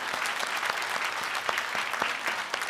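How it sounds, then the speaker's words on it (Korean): A church congregation at a Sunday worship service applauds to welcome newcomers, a steady wash of many hands clapping at moderate volume throughout. "우리 박수로 환영하겠습니다."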